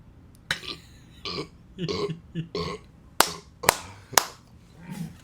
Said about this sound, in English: that burp was like coming down slowly